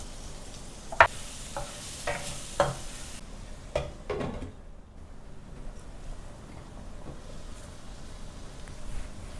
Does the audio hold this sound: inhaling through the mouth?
no